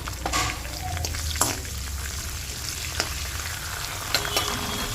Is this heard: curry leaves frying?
yes